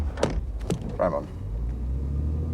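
A car pulling away, a low engine rumble building and holding steady after a few brief clunks and a spoken word.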